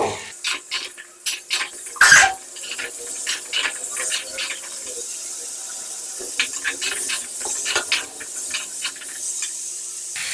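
Potatoes with salt and turmeric sautéed in a pan for aloo dum: a soft hiss with a louder burst near the start, then irregular light spatula taps and scrapes close by.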